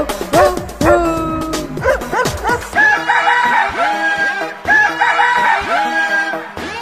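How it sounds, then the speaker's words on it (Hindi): A cartoon-style dog barks in quick bursts at the start of a Hindi nursery rhyme, followed by rooster crowing, all over upbeat children's music. "तो कुत्ता बोले भू भू भू।"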